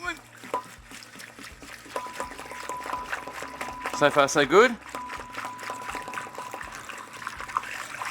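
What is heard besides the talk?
pouring liquid from 20 litre homebrew beer container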